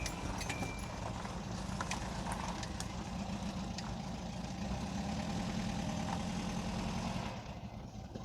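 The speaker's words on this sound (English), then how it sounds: "We're in the bus, just got it started up" A 1972 Volkswagen Type 2 bus engine idles with a steady, close low rumble that holds evenly throughout and eases slightly at the very end.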